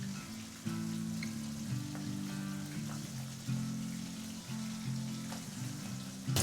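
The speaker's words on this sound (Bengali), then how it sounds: "এক ফিট ভাজা হয়ে গেছে আর এক ফিট ভেজে নেব" Koi fish sizzle and crackle steadily in hot oil in a pan for Bengali tel koi, a close, continuous frying hiss with a low hum underneath and no voices.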